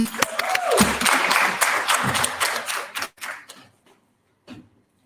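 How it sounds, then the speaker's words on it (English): An audience at a community dialogue gives a warm round of hand-clapping, dense and sustained at first, then thinning over about three seconds into a few scattered claps before silence. "Let's give him a warm hand of applause, please."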